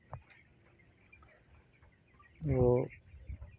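A 25-day-old broiler chicken gives a single clear cluck up close against a quiet background with faint scattered noises.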